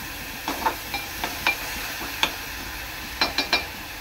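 A pan of onion-tomato paste cooks with a soft, steady sizzle while a spoon taps and scrapes it in scattered stirs, close by and with no talk.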